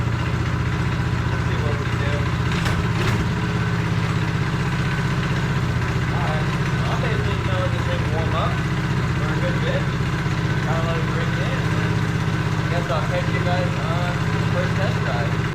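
A 224cc, 6.6 hp engine swapped into a mini quad idles steadily with a low, even rumble throughout, with faint background noises over the constant drone.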